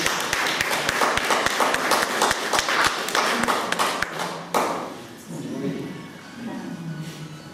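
An audience claps for a cabaret performer at a library event, a dense burst of sharp claps at close range for about four seconds before it dies away into quiet murmuring voices.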